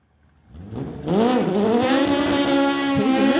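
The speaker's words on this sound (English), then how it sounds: "he's racing a 2007 VW in the tower lane" A 2007 VW and a 2003 BMW launch in a street-legal drag race, engines rising sharply from a quiet start into a loud, sustained high-revving roar with a tire chirp near the end.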